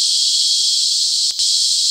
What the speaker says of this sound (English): And these cicadas are going absolutely crazy. The sound is intense